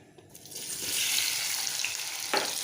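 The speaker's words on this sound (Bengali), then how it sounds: "আলুটাকে ভেজে নেব" Potatoes fry in a karai as a hissing sizzle swells after a quiet start and holds steady, with a brief louder clatter near the end and no talk.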